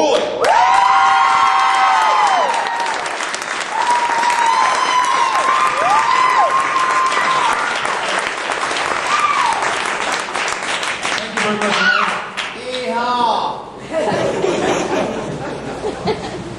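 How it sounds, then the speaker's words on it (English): A comedy club crowd applauds and cheers a stand-up comedian coming on stage, with loud sustained clapping, whoops and laughter mixed with chatter and an amplified voice over the top, fading into scattered claps and talk. "Nice round of applause"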